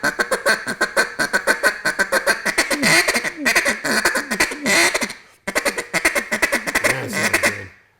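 Duck call blown in a rapid feed chatter, a long run of quick, rhythmic quacking pulses, close and loud, with one brief pause before the fast clucking resumes and trails off.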